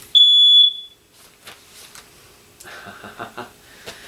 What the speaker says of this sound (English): And that was the smoke alarm.